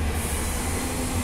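A train at Cockburn Central Station gives a loud, continuous rumbling roar with steady low hum and hiss, heard up close with no voices.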